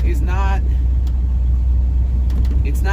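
A 1970 Ford F250 pickup truck drives along with a loud, steady low engine rumble, and someone talks over the engine noise.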